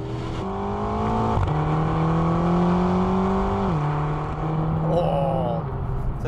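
A 2020 McLaren GT accelerating on the road, its engine note climbing steadily through a gear, dropping at a shift, then pulling up again with a smooth, loud, close-up drone.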